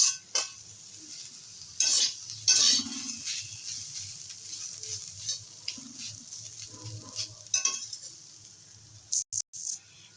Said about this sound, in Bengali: আট ন মিনিটের মতো নেড়ে চেড়ে একটু ভেজে নেব